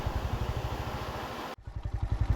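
A motorcycle engine idles close by with a steady low pulsing throb, briefly cut off mid-clip before the same rhythmic putter resumes.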